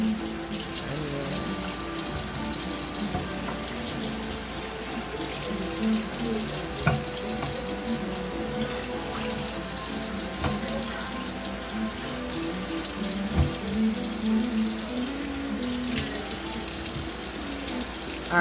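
Tap water runs steadily into a kitchen sink while tomato, onion and scallion are washed for a Jamaican seasoning. The stream is loud and constant, with occasional splashes as the vegetables are handled.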